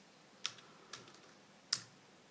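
Keystrokes on a computer keyboard while entering a terminal command on an Ubuntu machine: three sharp, separated clicks, the last the loudest, fairly close and quiet with no voices.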